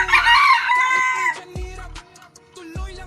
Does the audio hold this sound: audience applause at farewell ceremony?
no